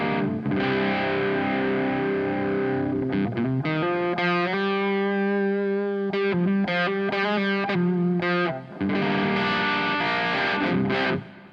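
An electric guitar played through a Tunguska distortion pedal, thick and saturated, strums sustained chords and short choppy bursts, loud and close with no talking.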